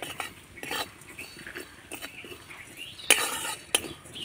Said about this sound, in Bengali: তো মশলাগুলোকে আমি শুকনো খোলায় 2 মিনিটের মতো জাস্ট নাড়াচাড়া করে ভেজে নিয়েছি।